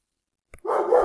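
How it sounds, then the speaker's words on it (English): A dog barks nearby, one sharp yip and then a sustained loud bark, breaking into a quiet indoor room. "Sorry, doggo's barking."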